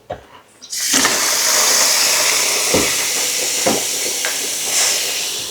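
Water pours out onto a terrace floor in a steady, loud rush that splashes and hisses continuously after a brief start, with a few thumps mixed in.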